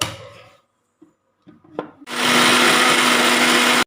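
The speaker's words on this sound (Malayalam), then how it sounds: "പേസ്റ്റ് രൂപത്തിൽ അടിച്ചെടുക്കാം" A mixer grinder whirs loudly, grinding coriander powder and other ingredients into a paste for a raw mango sardine curry. A few light knocks come first, then the motor roars in a steady, close burst for about two seconds.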